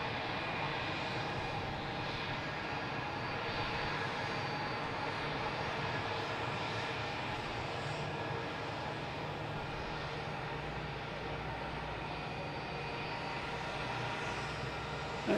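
An airliner taxiing toward the gate at Boston's Logan airport at dusk, its engines giving a steady, continuous roar that stays level and fairly close throughout with no talk.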